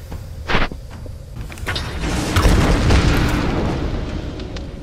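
A Tomb Raider video game explosion sounds as a deep booming rumble that builds and swells through the middle of the clip, preceded by a short sharp burst, with crackling debris noise and no talk over it.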